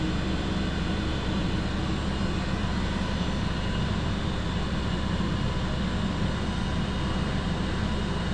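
A pump runs steadily in a PIV experiment water channel, giving a loud, unbroken broadband whir and rumble that stays constant throughout, with no talk.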